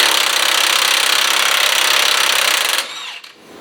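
An impact wrench loosening big nuts on a VW, a loud close continuous rattling hammer lasting nearly three seconds before cutting off, followed by fainter metallic clicks and handling noise.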